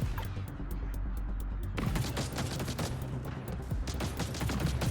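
Enemy gunfire in a roguelite survivor video game: dense, rapid crackling shots from several guns form a continuous loud barrage that gets harsher and busier partway through.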